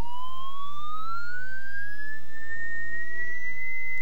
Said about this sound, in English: up to 2000 hertz or 2 kilohertz, you can hear it's a much higher pitch tone